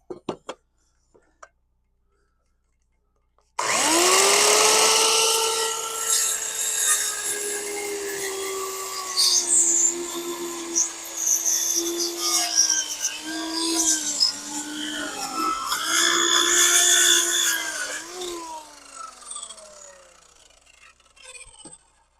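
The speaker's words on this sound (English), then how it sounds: "These circular saws, very, very dangerous." A circular saw trims the chainsaw-cut end of a lumber board, spinning up loudly with a steady high whine that dips and strains as the blade bites through the wood for about fifteen seconds, then winds down.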